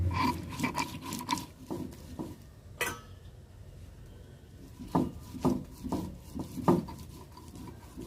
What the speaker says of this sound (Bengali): এবার চালগুলোকে জল থেকে ছেঁকে ভালো করে বেটে নিতে হবে।